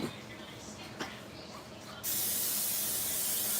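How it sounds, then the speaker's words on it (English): Baking spray hisses from an aerosol can into a small pan in a home kitchen, a steady close spray burst that starts partway through and runs continuously to the end after a short quiet stretch of faint room noise. "I'm going to go ahead and I'm going to spray it with the cooking spray."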